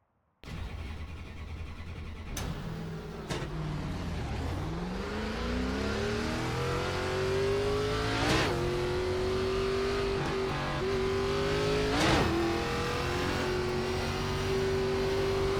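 A race car engine in the iRacing sim game starts and then revs up steadily through the gears, rising in pitch with a few sharp shift breaks. It is loud and continuous with no talk.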